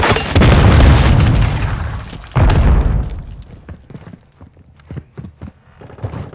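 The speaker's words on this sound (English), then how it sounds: "Grenade, watch out!" A grenade blast in the Call of Duty: Modern Warfare II video game lands as two loud booming explosions, the second coming about two seconds after the first, followed by scattered sharp gunshots and smaller pops as the din thins out.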